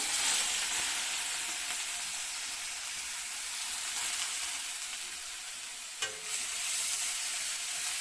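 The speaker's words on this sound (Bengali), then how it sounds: "এবার দিয়ে দিলাম পেঁয়াজ বাটা" Onion paste hits hot oil in a pan after fish frying for a tangy spicy Bengali fish dish, giving a steady bright sizzle and hiss throughout, with one brief clatter near the end and no voices.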